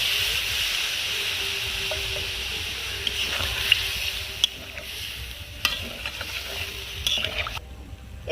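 Steady hiss and sizzle in a hot pan as milk cooks for Bengali egg korma, with occasional soft clicks and stirring taps, close and continuous.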